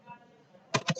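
A few quick keystrokes on a computer keyboard, close and fairly crisp, come after a short quiet lead-in near the end of a brief moment.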